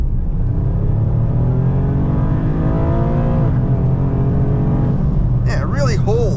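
A 2025 Toyota GR Corolla with automatic transmission kicks down and accelerates hard, the engine note climbing in a loud, close, steady rising drone heard from inside the cabin, ending with a quick chirp as the gear changes.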